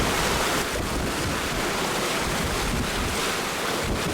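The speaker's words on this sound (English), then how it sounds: "So the wind started gusting up over 27, 28 knots." Wind gusting to 27 or 28 knots roars over a sailboat while waves rush past the hull. The noise is a steady, loud, unbroken wash with no voices.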